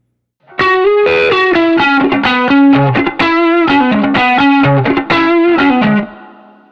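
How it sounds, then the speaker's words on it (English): Electric guitar through a Tim overdrive pedal stacked with a Tube Screamer, thick saturated overdrive playing a rapid melodic phrase, notes sustaining smoothly and creamy, loud and close with no talking. "hear the Tim stacked right behind that Tube Screamer"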